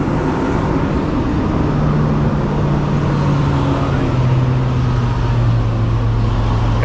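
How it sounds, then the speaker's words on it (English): At a truck stop, trucks pull up to the fuel islands under a steady, close diesel drone with a low engine rumble that holds throughout. "Got a couple more trucks pulling into the fuel islands here."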